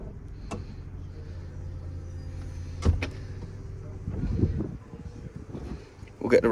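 The electric folding roof of a 2008 Mercedes SL350 AMG runs with a steady low motor hum, punctuated by sharp mechanical clunks and latch knocks, close by with someone talking intermittently.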